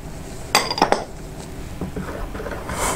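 A metal measuring spoon clinks against a mixing bowl while a teaspoon of baking soda goes in for banana bread, a few bright close taps in quick succession, then quieter rustling.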